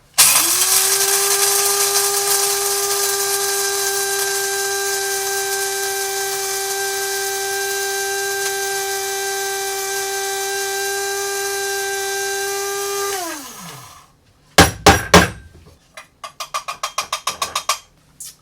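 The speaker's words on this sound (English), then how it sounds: "So I just time the grinding process of this electric grinder by here." An electric coffee grinder pulverises coffee beans into fine powder for a mocha, a loud, steady motor whine running about thirteen seconds before winding down, followed by several sharp knocks and rattles.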